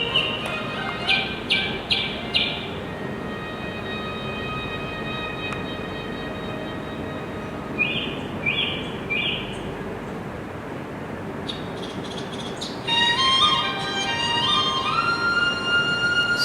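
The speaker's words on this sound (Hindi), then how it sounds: "पशु पक्षियों की जो आवाज़ें आ रही हैं" Birds chirp outdoors at a school yoga day gathering, with short clusters of high tweets in a few bursts over a steady, broad background rush.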